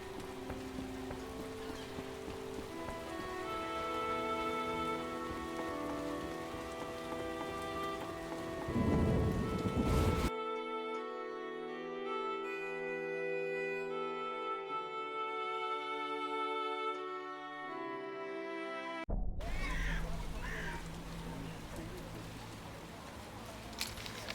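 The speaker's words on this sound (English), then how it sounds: "Oh, they're all running from the rain." Steady heavy rain with rolling thunder in The Witcher video game, a continuous loud downpour that briefly drops away in the middle before returning, with a few louder thunder swells.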